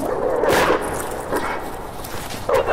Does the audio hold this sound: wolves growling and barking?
yes